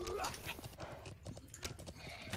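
Rapid clip-clop of horse hooves with a brief whinny in a medieval MMO castle defense battle, busy and close, with faint voices mixed in the background.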